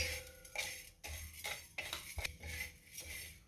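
Dry lentils, rice and millet are stirred as they roast in a pan without oil, giving repeated scraping and clinking strokes of a spoon against metal at a steady rhythm, close and clear with no voice.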